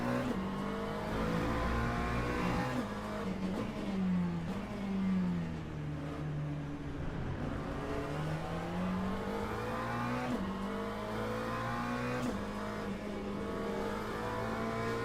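Race car engines in the Le Mans Ultimate sim racing game roar steadily throughout, with a loud sustained drone whose pitch climbs and drops through gear changes as cars battle side by side, one overtaking a Ferrari.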